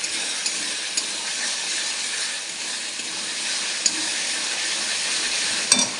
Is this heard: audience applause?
no